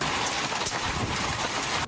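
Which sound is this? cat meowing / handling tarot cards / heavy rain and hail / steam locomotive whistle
heavy rain and hail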